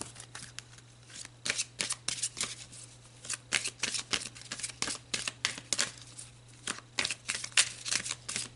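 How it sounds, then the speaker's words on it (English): Oracle cards being shuffled by hand, a quick run of crisp riffling bursts in uneven rhythm, close and fairly quiet, with no talking. "Let's pull some more cards."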